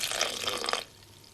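A small splash of water is poured into a wartime home-cooked dish in a kitchen, giving a brief, close trickling pour that stops abruptly after under a second, with no talking.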